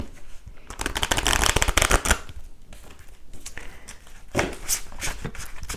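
A deck of oracle cards is shuffled close by in two rapid, riffling bursts separated by a short pause, crisp and papery.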